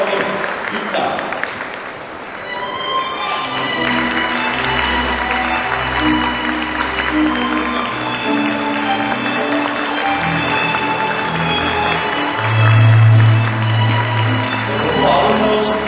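Guests in a wedding hall clap continuously as the mothers of the bride and groom walk in, long sustained applause blended with processional music and a low crowd murmur, holding steady throughout.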